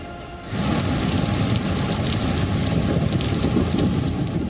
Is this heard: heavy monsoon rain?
yes